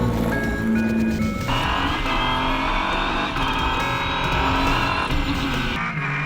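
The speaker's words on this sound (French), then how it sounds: "Michela Cerutti s'élance avec tout à découvrir de cette toute nouvelle voiture" A Renault Sport Trophy race car on track at the Nürburgring, its engine screaming at high revs with rising and falling gear-change tones, loud and continuous as it drives past.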